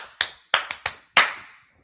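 Five sharp hand claps in an uneven rhythm, close and crisp, each ringing briefly into a quiet room.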